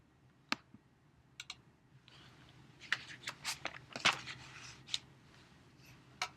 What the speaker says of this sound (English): and then click the pin icon